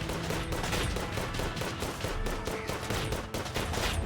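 Rapid gunfire in the video game Terraria, a loud, relentless stream of overlapping shots with a steady rhythm that barely lets up for several seconds.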